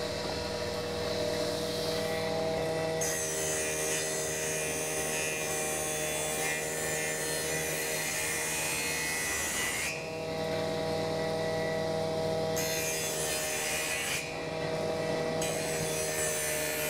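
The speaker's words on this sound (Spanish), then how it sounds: "que eso lo hacemos a serrucho" Carpentry hand saw cutting wood, a dense, continuous rasping stroke sound close up, shifting in tone across several passes with brief changes in the cut.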